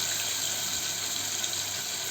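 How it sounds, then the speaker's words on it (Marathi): Steady, gushing rush of water poured into a cooking pot without a break, a continuous full splash. "त्याचं पाणी ओतूया भरपूर पाणी ओतून घ्यायचं"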